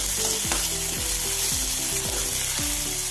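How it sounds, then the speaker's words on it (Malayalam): Mustard seeds and chopped onions fry in hot oil with a loud, continuous close-up sizzle that never lets up, while gentle descending musical notes play underneath. "എണ്ണ ചൂടായി ഒരു ടീസ്പൂൺ കടുക് ഇട്ട് കൊടുത്ത് കടുക് പൊട്ടി വരുമ്പം രണ്ട് വലിയ ഉള്ളി അരിഞ്ഞത് വെച്ച് കൊടുത്ത്"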